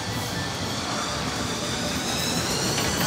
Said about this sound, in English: Roller coaster!